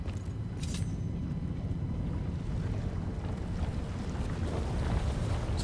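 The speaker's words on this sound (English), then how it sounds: "It's like a reverse waterfall." A reverse waterfall in the game Devil May Cry 5 gives off a steady, dense rushing roar, like churning water and wind, that holds constant and fairly loud without a break.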